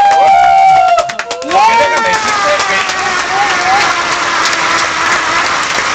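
Audience applause and cheering swell into a loud, continuous crowd roar, with whistles and shouting voices rising over the clapping.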